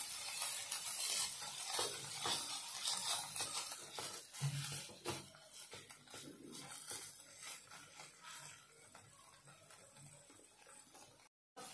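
Khoa, milk solids, roasting in a pan over low heat for basundi, giving a soft continuous sizzle with frequent scraping and stirring against the pan, close and steady, with no voice.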